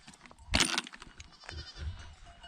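A goat bleats once, close and loud, on a trek in the Mustang region of Nepal, followed by quieter rustling and faint ambient sounds.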